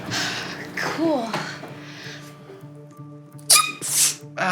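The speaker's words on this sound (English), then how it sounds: "Sneezing has got to stop." A child's sneeze in a dusty old attic during a kids' church mystery skit, heard among playful voices and a background music bed, with a sharp burst of sound near the end.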